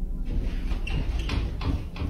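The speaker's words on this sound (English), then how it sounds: "they notice one of their doors is shaking" A door shakes by itself in a living room, a series of soft rattling knocks about every half second over a low, rumbling background, fairly near and with no talk.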